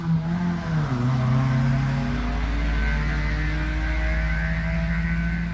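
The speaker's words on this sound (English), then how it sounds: "That's the longest noisy car I've ever heard." A noisy car passes outside with a long, drawn-out engine drone whose pitch dips and then holds, loud and sustained for several seconds without any speech over it.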